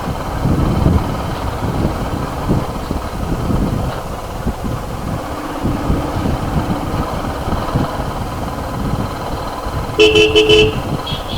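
On a mountain road in Uttarakhand, a steady car engine hums and rumbles for a long stretch before a horn honks in a short run of quick, loud toots near the end.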